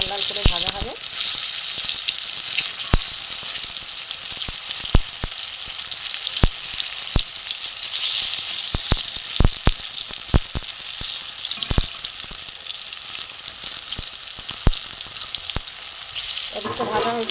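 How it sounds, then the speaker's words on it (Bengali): Prawn shell fritters fry slowly in oil over a low gas flame, a constant soft sizzle broken by scattered sharp pops and crackles. "আস্তে আস্তে ভাজাটা হবে, সুন্দর লাল লাল করে ভাজা হবে"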